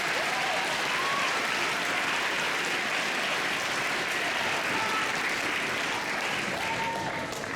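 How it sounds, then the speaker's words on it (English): Sustained applause from an audience at an MLK celebration, honoring a women's basketball team; dense, steady clapping fills the space evenly for several seconds without a break. "clap it up for them"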